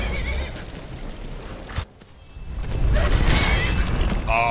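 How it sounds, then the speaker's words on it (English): A horse neighs in the Skyrim video game, with a whinny and hoof clops over busy in-game sound, loud and close, breaking off briefly before resuming. "Hey, you took my kill, horse!"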